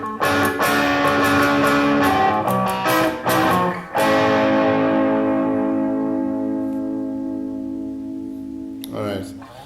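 A Stratocaster-style electric guitar with two pickups wired in series and out of phase rings out as strummed chords, then a long sustained chord decays slowly, with a thin, nasal tone close up.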